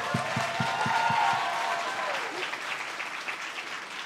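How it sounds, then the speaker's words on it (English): Audience at a youth event applauding panelists, a steady wash of clapping with some crowd noise, moderately loud and continuous; a few low thumps and a voice come through early on. "Come on, let's give it up."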